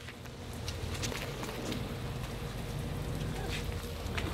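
Water sprays from a garden sprinkler on a hot day, making a steady, close rain-like hiss with faint pattering that runs without a break.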